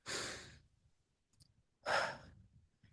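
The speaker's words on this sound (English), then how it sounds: "When you take a deep breath" Two deep breaths from one person, each a breathy exhale or sigh about half a second long, close and clear, with a quiet pause between them and no speech.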